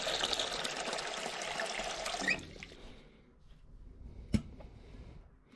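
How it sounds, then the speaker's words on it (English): Water pours into a bowl in a Japanese kitchen, a bright, splashy stream lasting about two seconds before cutting off, followed by quiet handling and a single light clink. "Pour water into a bowl and add a small amount of sake and salt."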